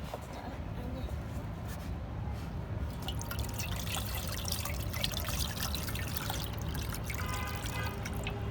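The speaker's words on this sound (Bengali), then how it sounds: "এখন আমরা এটাতে পানি দেবো" Cold water is poured into a container for homemade lemon sharbat, a steady trickling and dripping sound heard close up throughout.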